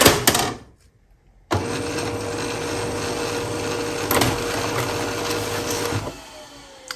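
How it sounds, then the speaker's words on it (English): A home printer struggles to feed newsprint paper: a brief burst of mechanical whirring, a second of near silence, then a sustained buzzing whir with clunks before it winds down. "So my printer doesn't like the newsprint."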